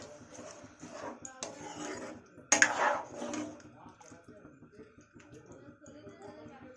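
A spoon stirs Bengali-style chana masala in a pot over a high flame, giving soft scraping and a few clinks against the metal, with one louder clatter partway through.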